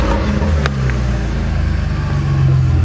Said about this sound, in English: It does somewhat of a burnout.